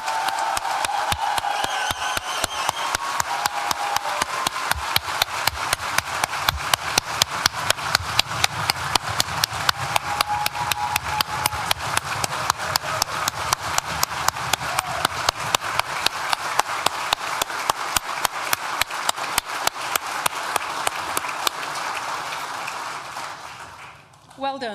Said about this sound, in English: I think we can have a really good round of applause for the class of 2023